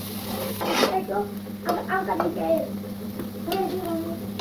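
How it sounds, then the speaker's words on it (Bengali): Snake gourd is stirred in hot oil in a cooking pan, with scraping and clattering strokes of the utensil against the pan over a low sizzle while a person talks. "এ পর্যায়ে আমি চিচিঙ্গাগুলোকে দিয়ে দিচ্ছি আর এটাকে আমি ভালোভাবে নেড়ে নেব।"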